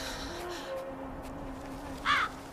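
A bird, crow-like, gives one short harsh caw near the end over a faint humming backdrop.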